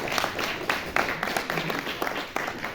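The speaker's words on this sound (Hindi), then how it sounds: "जोरदार तालियां प्लीज।" Loud audience applause fills a book release function on stage, dense clapping sustained throughout with no voices standing out.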